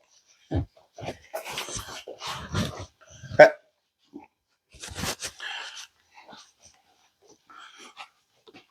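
A dog barks several times in irregular bursts nearby, with short pauses and quieter scuffling sounds in between.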